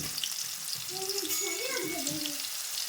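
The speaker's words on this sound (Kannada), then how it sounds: "ಈಗ ನೋಡ್ರಿ ಬೆಳ್ಳುಳ್ಳಿ ಒಂದು ಸ್ವಲ್ಪ ಫ್ರೈ ಆಗುತ್ತೆ" Garlic fries in hot oil in a kadai, a close, steady sizzle with a bright crackling hiss filling the short stretch, with a faint whistling tone rising and falling in the background.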